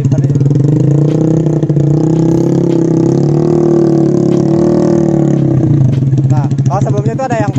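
A Honda New BeAT scooter with a CVT and an aftermarket CLD exhaust idles with a loud, steady buzzing drone, then blips the throttle in quick revs near the end, heard up close.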